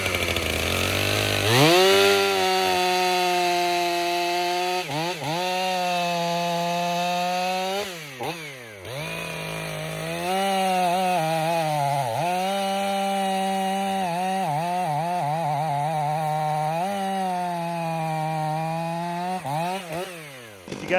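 A stock Husqvarna chainsaw fitted with hand-filed Duke's full chisel chain and set rakers cutting wood, a loud, steady high-revving whine that bogs and recovers through several cuts over about twenty seconds, with no talk.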